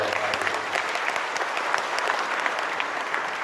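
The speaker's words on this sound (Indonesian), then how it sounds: "Tepuk tangan buat." Crowd applause at a Jakarta community organization's regional assembly, a thick, even burst of many hands clapping with scattered crisp claps, loud and sustained from start to finish, with no voices.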